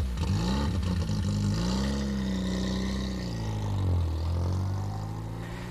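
A 1935 Morgan F4 three-wheeler's Ford 1172cc 10-horsepower engine rumbles and revs nearby, pitch rising and dipping as it drives, with light mechanical clatter.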